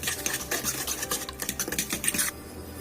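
A spoon works through a pecan pie filling mixture in a bowl, giving quick repeated scraping and clinking strokes up close that stop abruptly near the end, with no talking.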